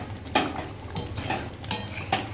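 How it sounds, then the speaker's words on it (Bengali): Chicken with burnt garlic cloves is stirred in a pot: about five close scraping strokes of a utensil against the metal, over a soft background sizzle. "ভালো করে আরেকটু নাড়াচাড়া করে আবারও ঢেকে দেব"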